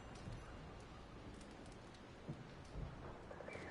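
A storm in Red Dead Redemption 2 fills the scene with steady rain hissing on surfaces, with low rumbles and a few soft thuds beneath the constant wash.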